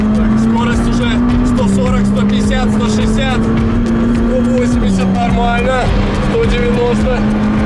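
A 600 hp McLaren sports car with a carbon monocoque accelerating on a track, its engine droning loudly from inside the cabin with pitch steps at gear changes, under constant excited talk.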